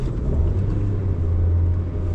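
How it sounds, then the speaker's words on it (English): A car engine revs during a rev-matched downshift, a short steady low rumble that swells slightly and holds, close and without talk. "I'm just gonna rev the engine up, release the clutch"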